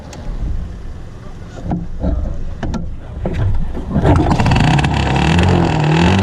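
A motorcycle being ridden, its engine note rising as it accelerates, with wind rush building and growing louder toward the end.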